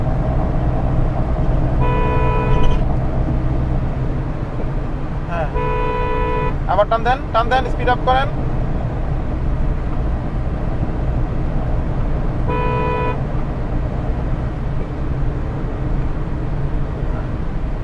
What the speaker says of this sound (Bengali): এই অটোগুলোকে হর্ন দেন